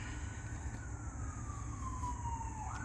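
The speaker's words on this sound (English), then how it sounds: "Sorry, the sirens are distracting me." Sirens from emergency vehicles passing outside wail steadily over a constant background hum, the tone gliding gradually downward as they move past, with no talking.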